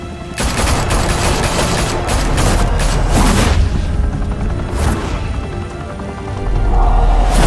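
Gunfire rattles through a shootout in the Telltale Batman video game, dense bursts of shots and booming impacts packed close together, loud and sustained with no talking.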